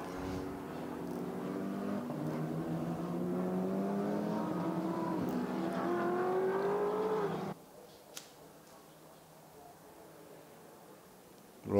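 GT4 race cars at the Nürburgring roar past loudly with rising engine harmonics for several seconds, then the sound drops abruptly to quieter distant engine noise with a brief click.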